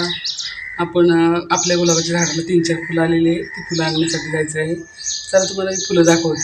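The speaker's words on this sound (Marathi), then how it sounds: "मस्त सकाळ चिमण्यांचं किलबिलाट चालू असतो" Sparrows chirp and tweet in the morning background, under someone talking steadily close by.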